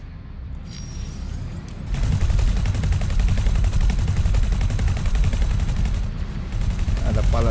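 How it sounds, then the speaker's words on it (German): Rapid-fire weapons blasting during a space battle in X4: Foundations, Nemesis ships against a Xenon K: after a quieter opening, a loud, steady stream of fast repeating shots kicks in and hammers on with only a brief dip. "Ja, da baller ich hier nämlich."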